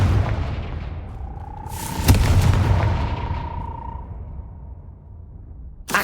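A Confringo blasting spell explodes in the wizarding video game Hogwarts Legacy: a single sharp boom that rings out into a long, fading tonal tail, followed by a fresh burst at the very end.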